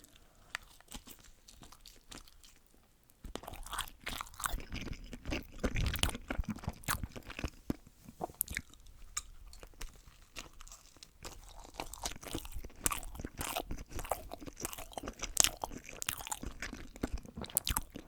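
Someone eats a slice of pizza close to the mic, with crisp crunching bites and wet chewing repeating in an irregular rhythm after a quiet start, loud and intimate with no talking.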